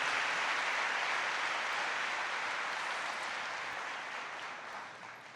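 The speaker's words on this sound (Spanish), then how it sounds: "Denle una ofrenda de palmas al Señor" A church congregation claps together as an offering to the Lord, a dense, even roar of applause that slowly fades toward the end.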